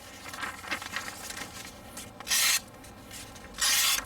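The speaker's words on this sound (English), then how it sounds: "it wants to slice right through the paper with no problems" A new Camillus camp knife with a thin hollow-ground blade slices through paper in two short, loud rasping cuts, each under a second, following softer rubbing and handling noises.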